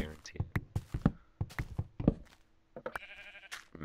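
Sheep bleating in Minecraft, a few short nasal bleats mixed with dull thunks and taps, close and fairly quiet, while a person talks and imitates the bleating.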